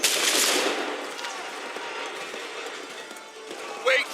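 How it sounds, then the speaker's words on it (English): Musket volley in Assassin's Creed 3 bursts out at once as a loud crackling blast, then trails off into a rumbling echo and scattered noise before a brief sharp sound near the end. "Open fire."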